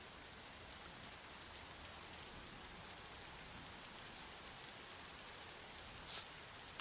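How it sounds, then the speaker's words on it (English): Rain falls outdoors as a faint, steady, even hiss, with no voices and only a tiny patter near the end. "It's a terrible day for rain."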